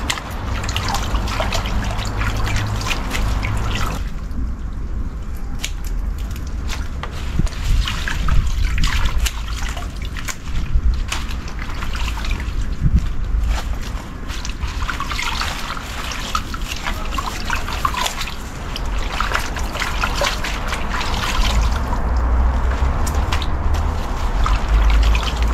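Water pours and trickles steadily while fresh pechay leaves are being washed, a continuous close splashing stream with small drips and shifts in flow and no talk.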